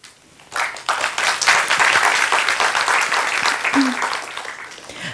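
A science communication competition audience bursts into applause after a quiet start, a full, steady wash of clapping that holds strong for several seconds before fading at the end.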